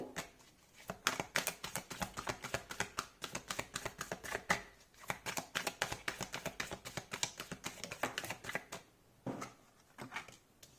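Tarot cards are shuffled and drawn in rapid, soft flicking and riffling bursts, close and quiet, with brief pauses between runs.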